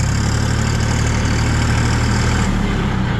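A new Chinese RD 244 LUX tractor engine idles close and loud with a steady, even low rumble and no talk over it.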